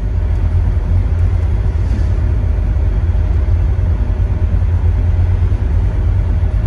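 Steady low engine rumble from inside a hot rod car cruising on the road during the Hot Rod Power Tour, a constant droning hum with no pauses.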